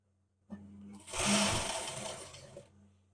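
A sewing machine stitching around an aso oke fabric cap, a short hum at first and then a loud, steady whirring run of stitches lasting about two seconds before it stops, close and alone.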